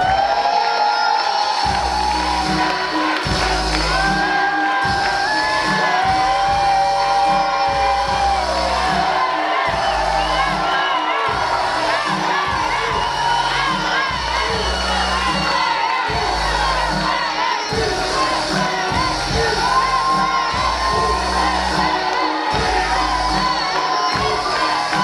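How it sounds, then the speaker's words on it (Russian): At a university KVN comedy contest for first-year students, the audience cheers and whoops loudly as teams come on stage. Music with a thumping bass beat plays under the steady crowd noise throughout. "я приглашаю все команды на сцену под ваши громкие аплодисменты"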